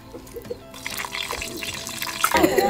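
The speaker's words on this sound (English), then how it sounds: "Water from the river is poured into a pot." River water poured into a pot for boiling crocodile meat outdoors in the Congo, a close splashing, trickling pour that builds and grows louder toward the end.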